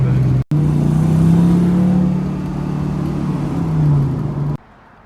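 A 1969 Camaro restomod engine pulls in second gear, a loud, close, rising and falling drone that holds steady, then cuts off abruptly near the end.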